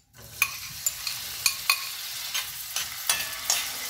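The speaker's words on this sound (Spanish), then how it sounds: "Ya básicamente tengo mi aceite caliente. Voy a agregar el jamón." Ham frying in hot oil, a steady close sizzle punctuated by regular sharp ticks and pops from stirring or shifting pieces, with no talk.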